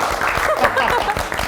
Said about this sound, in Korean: 그럼 그때의 감동을 약간 박수로 표현해 주신다면 한번 다 같이 쳐볼까요?